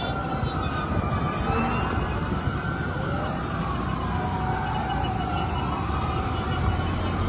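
A fire truck siren wails in rising and falling sweeps at a building fire in heavy traffic at Luzon Avenue and Commonwealth, Quezon City, steady and moderately distant over a constant street rumble.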